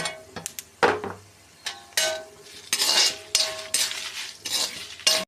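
A spoon repeatedly scrapes and clinks against a pan as spices with cumin are stirred for karivepaku karam podi, a busy sequence of metallic taps and scrapes over a faint background sizzle.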